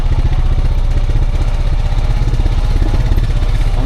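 A four-wheeler ATV engine crawls along slowly while towing a Vevor dump trailer, giving a loud, close, steady low chugging rumble with rhythmic pulsing throughout and no break.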